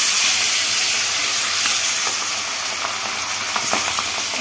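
Fish sizzling steadily in hot oil, a dense continuous frying hiss with a few faint pops scattered through it, close and fairly loud, no voices.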